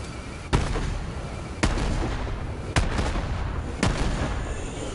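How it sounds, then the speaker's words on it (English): Four loud blasts from sticky grenades in a PS4 shooter go off at roughly one-second intervals over a constant rumbling battle background. "They're sticky damn grenades!"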